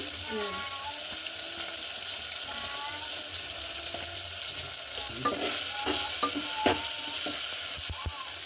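A spoon stirs turmeric into pindi charu in a pot, faint watery sloshing and scraping with a few sharper clinks against the metal later on, quiet and close, with a voice speaking briefly in the background.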